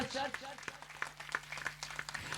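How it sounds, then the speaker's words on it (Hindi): A church congregation claps in praise during a service, the scattered claps sounding beneath a preacher's loud voice that continues throughout. "एक बार ताली बजाएं, प्रभु की महिमा करें जोरदार चर्च"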